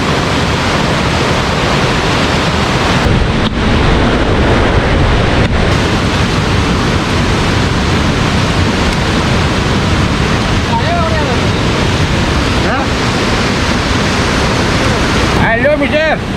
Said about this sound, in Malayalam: ഞങ്ങളുടെ നാട്ടിലെ ഈ വെള്ളച്ചാട്ടം കാണാം